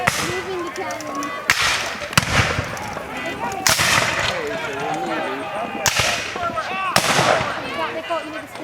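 Several loud, sharp cannon booms at a Civil War battle reenactment, at irregular intervals, each a broadband blast, with excited voices talking and shouting in between.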